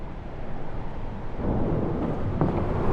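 A storm rumbles in the video game Return to Grace as low, continuous thunder that swells louder partway through, with no voices over it.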